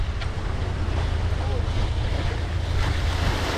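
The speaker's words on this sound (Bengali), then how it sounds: "দেখো ঢেউটা, দেখো এখানে বন্ধুরা" Surf roars continuously with heavy low rumble and wind buffeting the microphone on Digha sea beach, the waves close and loud throughout.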